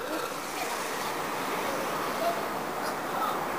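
Steady breeze blowing across a hillside slope, a constant broadband rush of wind buffeting the microphone throughout with slight gusts, no clear voices.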